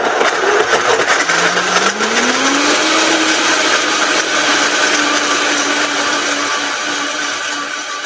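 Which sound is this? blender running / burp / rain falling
blender running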